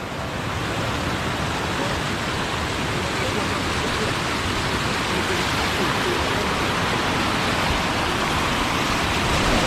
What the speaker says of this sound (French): Ah, un bon petit torrent pour se rafraîchir.